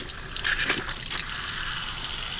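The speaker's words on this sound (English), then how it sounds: "I'm going to now turn the water on." Water gushes from a laboratory tap as it is turned on. The faint rush swells briefly at first, then settles into a steady, even flow.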